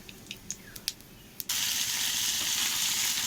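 Dried red chillies and black cumin seeds dropped into hot oil start a sudden, steady sizzle that holds loud and even after a few faint clicks and taps.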